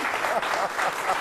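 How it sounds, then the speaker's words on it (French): An audience applauds, a soft, fairly distant patter of clapping that keeps going evenly, with a faint voice in the background. "Ça s'applaudit."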